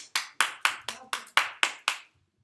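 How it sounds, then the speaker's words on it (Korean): Eight sharp, evenly spaced hand claps in a quick steady rhythm, close and clear, from an elementary school English class praising young students after a song, then silence. "박수."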